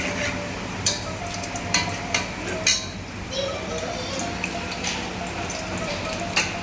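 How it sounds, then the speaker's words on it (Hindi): Round-sliced onion rings fry in 2 to 3 spoons of hot oil over a high flame, giving a faint, steady sizzle with scattered soft crackles and occasional clinks. "हाई फ्लेम पे तेल गरम कर लेते हैं और जो गोल वाली प्याज काटी थी उनको तल लेते हैं"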